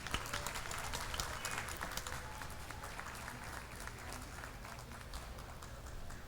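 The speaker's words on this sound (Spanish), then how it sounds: "A Monique Cepeda, fuerte el aplauso para ella, y Marta Riva Palacio." Sustained applause from a large audience at a round-table book event, steady and fairly even throughout, heard from a little distance.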